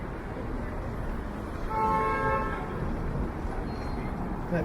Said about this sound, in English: The person behind him honked